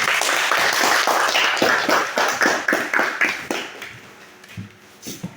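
Classroom applause for students, a burst of sharp, close hand claps in a brisk rhythm that gradually thins out and fades, ending with a few scattered isolated claps.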